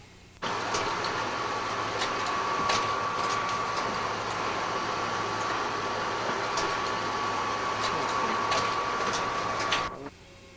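Small-press comic printing machine running steadily while printing comic pages, a continuous mechanical hum with a faint steady whine and light periodic clicks, close and alone for about ten seconds before stopping.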